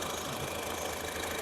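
A 2016 Honda City VX i-VTEC petrol engine idles, a quiet, even mechanical hum with faint ticking and no changes in level. Nobody talks over it.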